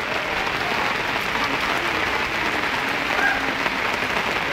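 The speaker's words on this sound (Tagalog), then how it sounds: "lumakas na naman yung ulan." Heavy rain pours steadily in a dense, even roar with no pauses, close and loud during a flood where cars sit submerged and water runs fast through the street.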